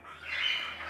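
Young ringneck parakeet chicks chirp in a continuous, fairly loud shrill call that swells and eases over about a second, close by and with no talk over it.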